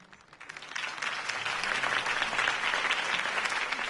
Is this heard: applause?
yes